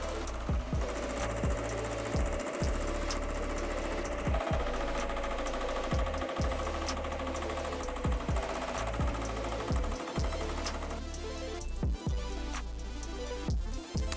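An embroidery machine stitches a test design onto a kids' hoodie, giving a steady, continuous mechanical chatter with rapid needle thumps and periodic sharper knocks throughout, fairly loud and close with no talking.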